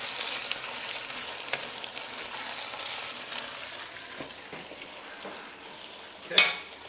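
Red beans with Worcestershire sauce and seasoning sizzling and crackling in a big pot for New Orleans red beans and rice, a steady close hiss with occasional soft clinks and a brief clatter near the end.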